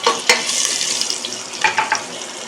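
Spice dropped into hot oil for a simple kichdi, crackling and sizzling steadily close by, with scraping stirring strokes and a few brief sharper clatters.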